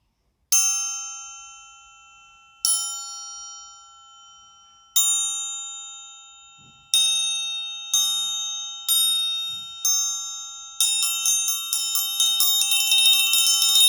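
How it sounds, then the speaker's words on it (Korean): Steel triangle struck by a metal beater while hanging from its cord: a series of bright ringing strikes with long decays, spaced apart at first and ending in a rapid rolling tremolo, heard alone and close. "삼각형 모양의 쇠 막대를 달아매서 치는 타악기예요"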